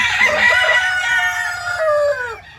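A rooster on a small poultry farm lets out one loud, close crow that holds and then drops away, with faint farm sounds in the background.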